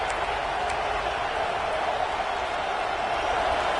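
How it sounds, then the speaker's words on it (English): Stadium crowd roaring at a college football game after a defensive tackle for loss on third and long, a steady dense wall of cheering that holds loud and unbroken throughout. "Listen to this crowd just shaking the girders of this place"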